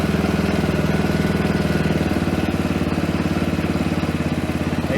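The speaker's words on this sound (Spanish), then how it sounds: "Vamos a hacer una prueba de arranque con el motor frío." VX250 EFI motorcycle engine running after a cold start, a steady, even mid-pitched putter held for several seconds with no talk.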